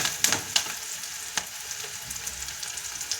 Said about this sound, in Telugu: మంచి కలర్ వచ్చేంత వరకు ఇవి వేయించుకొని